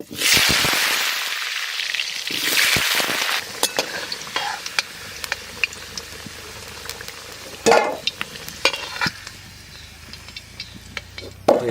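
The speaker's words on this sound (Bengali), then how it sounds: "তেল গরম হয়ে গেছে আলু ভাজি নেবো" Potatoes dropped into hot oil in a village kitchen erupt into a loud close sizzle that fades after a few seconds, followed by sparse sharp crackles and pops over a quieter fry.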